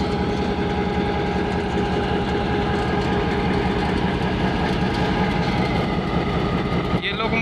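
An old 1500 horsepower Pakistan Railway GMCU 15 diesel locomotive idles close by, a steady, dense low rumble with constant mechanical hum that runs unbroken for the whole stretch, with a brief shift near the end.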